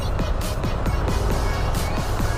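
Road traffic idles and creeps at a stoplight on Roxas Boulevard in Manila, a continuous low engine rumble with repeated short passing whooshes from nearby vehicles.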